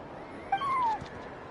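A cat in the Genshin Impact video game gives a single clear, rising-then-falling meow lasting about half a second over quiet in-game ambience.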